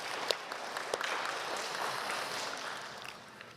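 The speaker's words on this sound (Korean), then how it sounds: "박수 한번 하겠습니다" A church congregation at a Sunday service claps together in a soft, even wash of applause, fairly distant and quiet, holding steady before gently tapering off.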